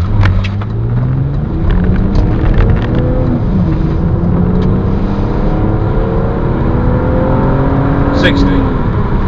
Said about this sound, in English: Just going to do a 0 to 60 test. The conditions are very wet